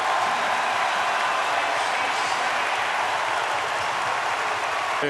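A basketball arena crowd at a college men's game, NC State against Kansas, roars steadily through a timeout, a dense continuous wash of cheering and applause.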